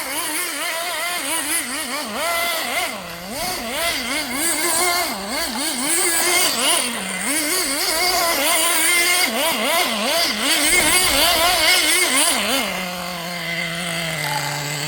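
A Team Associated RC10GT nitro RC truck engine runs loud and close, its high buzzing pitch rising and falling continuously as the throttle is blipped, then settling to a steadier drone near the end.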